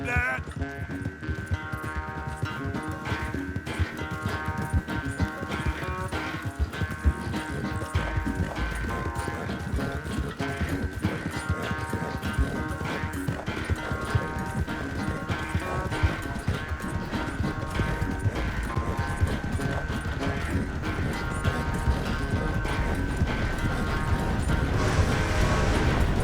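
Horse hooves gallop steadily in Red Dead Redemption 2, a loud, continuous rapid clip-clop rhythm running throughout with game music and ambience layered beneath.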